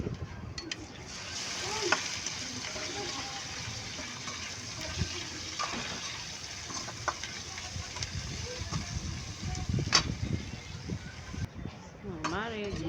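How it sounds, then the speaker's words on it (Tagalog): Pork fat sizzles and renders in a pan for a mung bean dish, a soft continuous crackle with occasional stirring scrapes and clinks, fairly quiet and close, while someone talks over it. "Papamantikain na pa natin yung ating taba para sa ating munggo"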